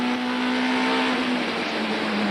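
Touring cars from the 1998 Bankfin series race at the Killarney circuit, a loud, steady engine drone as the pack runs close by, with one pitch holding throughout.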